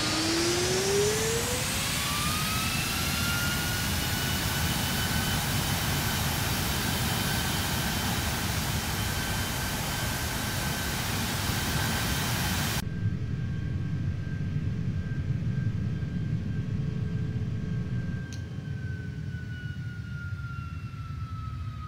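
Simulated GE CF6-80E1 jet engine during thrust reverser deployment in a flight sim: a loud, rising turbine whine and roar hold steady, then the broadband rush drops away abruptly, leaving a fainter steady tone.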